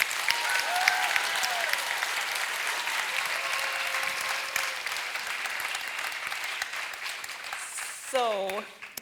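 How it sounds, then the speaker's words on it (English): An audience applauds a panel at a conference, dense sustained clapping filling the room for several seconds, with a voice heard over it before the applause fades out at the end. "A big round of applause for the whole panel."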